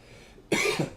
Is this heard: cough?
yes